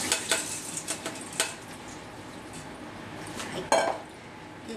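Soaked brown rice is tipped into a colander, giving a few quiet clinks and rattles at the start and one sharper clatter near the end, with a brief spoken word.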